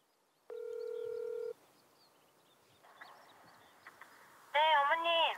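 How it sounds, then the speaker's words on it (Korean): A telephone keypad tone sounds once, followed by faint beeps and then a warbling ringback tone, quiet and close. "어머니는 어딘가로 전화를 거는데"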